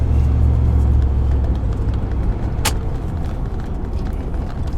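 A 1990 Cadillac Brougham d'Elegance in triple black with 67k miles cruising on the road, a steady loud low engine and road rumble from inside the cabin, with a brief sharp click partway through.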